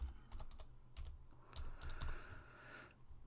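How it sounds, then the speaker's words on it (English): Password being typed on a computer keyboard at a CCTV network video recorder login: a quick burst of crisp key clicks in short irregular clusters, fairly close, with no talking. "we type our password"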